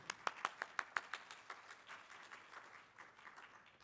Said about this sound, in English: would you please give a studio clap to Brooke Williams?